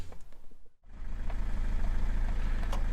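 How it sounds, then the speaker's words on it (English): A van's engine idles steadily while charging the battery, a low continuous rumble that cuts out briefly near the start and then resumes, running alone without talk. "We have the engines running because we're just charging the battery"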